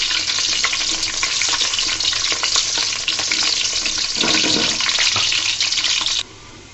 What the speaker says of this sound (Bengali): একটু সুন্দর গন্ধ বের হওয়া পর্যন্ত ভেজে নিব।